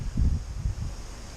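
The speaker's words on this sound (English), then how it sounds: "it's windy." Wind gusts buffet a microphone outdoors, giving low rumbling thumps that rise and fall over a moment and then ease off into a softer steady hiss.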